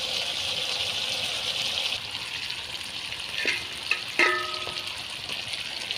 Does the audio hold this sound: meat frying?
yes